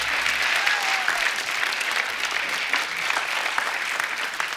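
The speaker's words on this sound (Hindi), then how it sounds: "एक बार जोरदार तालियां होनी चाहिए।" A television studio audience breaks into steady, energetic applause on a comedy show, a thick continuous roar of clapping that holds evenly throughout with no speech on top.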